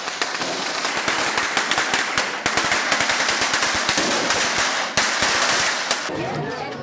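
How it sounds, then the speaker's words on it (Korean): Rapid strings of firecrackers crackle and pop loudly in dense, continuous bursts, sharp bangs overlapping with no pause, set off ahead of a religious statue procession in Guatemala. "성상 행렬이 이어지는 곳에서는 폭죽을 터뜨리기도 하는데요."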